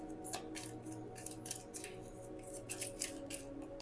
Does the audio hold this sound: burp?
no